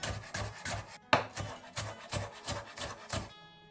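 Knife chopping capsicum on a cutting board, a steady run of quick, close chops with a soft rasping edge, one sharper knock near the middle, no voices.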